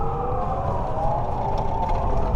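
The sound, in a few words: sirens in city traffic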